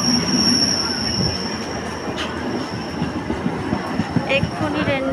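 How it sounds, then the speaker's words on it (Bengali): A train pulls into a suburban railway platform on the Canning line, a steady near rumble of wheels and carriages with brief metallic squeals and clatter throughout, with faint crowd voices in the background. "ট্রেন আসছে"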